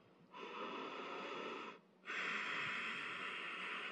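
A person imitates the throat breathing of COPD patients, with two long, raspy, wheezing breaths separated by a brief pause, the second a little louder and harsher, heard close and alone.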